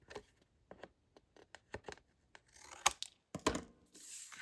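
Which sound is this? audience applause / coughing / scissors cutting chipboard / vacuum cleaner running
scissors cutting chipboard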